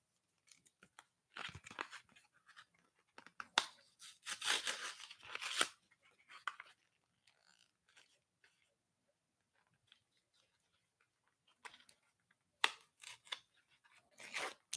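Crinkling, tearing foil of Yu-Gi-Oh card booster packs being ripped open by hand in sporadic bursts, some rustling and crunching up close with quiet gaps between.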